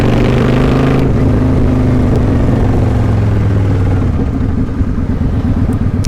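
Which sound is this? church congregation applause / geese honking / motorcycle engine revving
motorcycle engine revving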